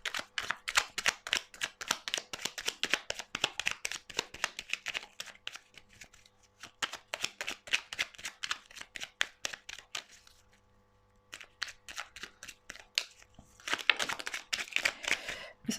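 A deck of oracle cards is shuffled close by in rapid riffling bursts of papery flicks, pausing briefly twice before the shuffling resumes.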